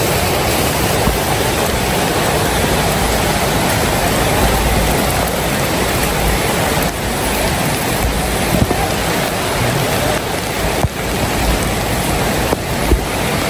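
Heavy rain pours down in a dense, unbroken roar of drops hitting surfaces, loud and constant throughout with a few sharper splashes.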